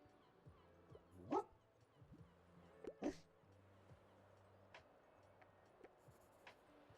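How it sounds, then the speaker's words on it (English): A hungry stray dog in the cozy video game Tiny Bookshop gives a couple of short, faint barks over quiet background game music. "Oh, there's a dog here."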